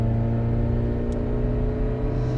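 A Tofaş Doğan L running on LPG accelerates with four people aboard, a steady droning engine hum with strong low tones heard from inside the cabin, fairly loud and continuous without talking.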